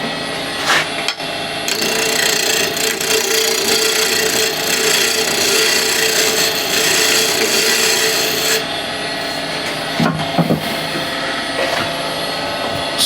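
A spindle gouge trues up the top of a red resin and wood box spinning on a lathe, giving a steady, loud scraping and rasping cut that runs for several seconds, then breaks off into a few short, separate knocks.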